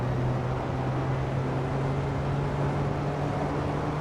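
A 1950 race car engine in Assetto Corsa drones steadily and loudly at high revs, a constant buzzing hum with a strong low tone and no pauses, heard alone without talk.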